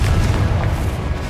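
Spell explosions in Hogwarts Legacy: a brief, dense, booming blast that rumbles on loudly for about a second.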